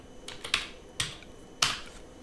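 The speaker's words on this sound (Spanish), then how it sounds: "abrimos nuestro navegador y tecleando COVID" Computer keyboard typing: three sharp, separate key clicks spaced about half a second apart, close and crisp over a quiet room, with no voices.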